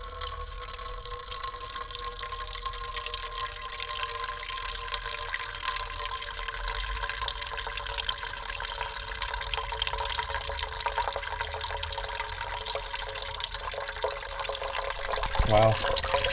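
Water from a Craftsman ride mower draining into a drain pan, a continuous rushing, splashing flow heard close up, with a voice speaking over it and a brief clatter near the end.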